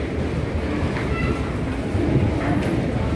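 A Kolkata metro train at Rabindra Sarobar station gives off a loud, steady rumble with a continuous rattle of wheels and carriages throughout, close by and without pause.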